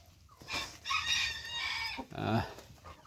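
Hens cluck and squawk in a few loud, close bursts, with faint background noise between them.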